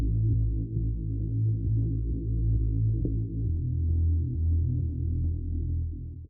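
A deep, throbbing house-music bass line built with Splice rolls along in a low, sustained pulse, loud and up front with no other sounds over it.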